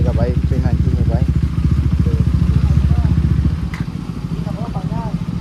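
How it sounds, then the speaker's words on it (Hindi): A 390 motorcycle engine idling and warming up, a steady close, low rumbling putter running throughout while someone talks over it. "चलो भाई इंजन भी थोड़ा गर्म हो जाएगा भाई 390 में भाई"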